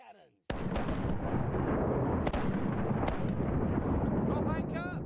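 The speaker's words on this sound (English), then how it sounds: "Fire the cannons." Ship cannons fire in a pirate sailing video game. After a brief quiet opening, a heavy booming blast erupts into a long roar, with two more sharp cannon reports close behind. A voice chirps briefly near the end.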